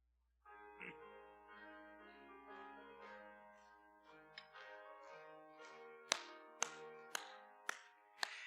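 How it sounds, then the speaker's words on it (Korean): Church congregation singing a hymn at a Wednesday service, with rhythmic hand claps that start faint and grow into sharp, regular beats toward the end, heard over the sung melody. "우리 박수 치시면서 하나님 힘차게 찬양합니다."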